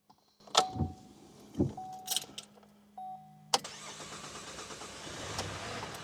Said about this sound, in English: The car starts. And it's running.